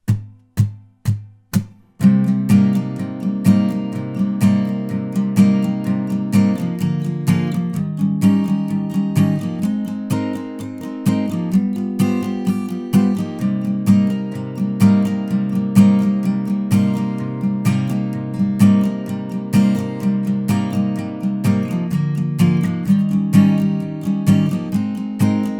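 Acoustic guitar strums the verse chords in a steady rhythmic pattern, close and loud, after a few opening single strikes, continuing for about twenty-five seconds with no voice.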